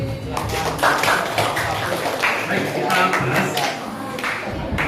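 Students in a classroom clap together in a scattered, lively burst of applause, while a teacher's voice talks over the clapping.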